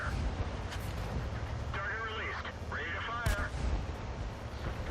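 Tank cannon fire in the World of Tanks video game: a few sharp booming shots land among steady rumbling battle noise, with someone talking over the action.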